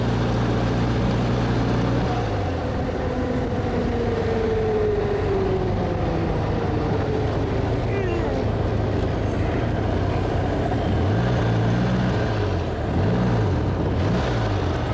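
Old car with a working speedometer and ammeter driving over a very rough road, engine droning steadily as it drops to a lower gear, with pitch shifts as revs change; no talking.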